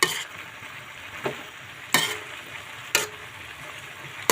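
Chayote and pork liver fry in a pan under a steady sizzle, broken by three or four sharp scraping strokes of a spoon stirring at regular intervals.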